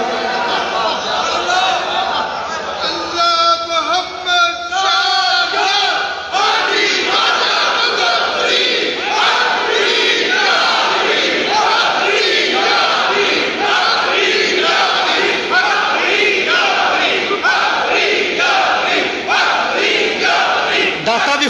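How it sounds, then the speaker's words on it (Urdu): A large crowd at a Sufi shrine chants devotional slogans in praise of the saint, many voices roaring in loud rhythmic call-and-response waves that repeat steadily and close, with shouting throughout. "داتا کی بارگاہ میں بابا کے نعرے لگ رہے ہیں"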